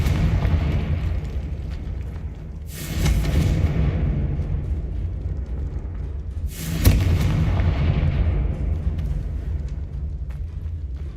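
Confringo blasting spell explosions in the video game Hogwarts Legacy: two booming blasts with sharp onsets a few seconds apart, each leaving a long rumbling tail, heard alone without talk.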